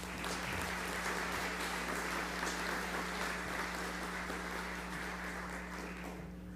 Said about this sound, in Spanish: Un caluroso aplauso y sean muy cordialmente bienvenidos